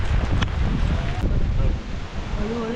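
Steady roaring gusts of wind drive water spray back upward at Kalu waterfall on a jungle trek, a dense continuous rush with faint voices mixed in.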